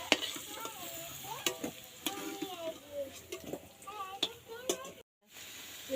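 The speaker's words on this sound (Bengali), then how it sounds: "এঁচোড়টা ভাজা হয়ে গেছে, এবার তুলে নেব" Young jackfruit fries in oil in a wok, a faint steady sizzle broken by repeated stirring scrapes and clinks, with a brief silent gap near the end.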